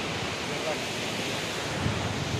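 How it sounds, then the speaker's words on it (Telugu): Jog Falls in Karnataka pours down as a steady, broadband roar of falling water, continuous and even throughout with no breaks, heard from a moderate distance. "చూస్తున్నారు కదా ఫాల్స్ ఎలా పడుతున్నాయో"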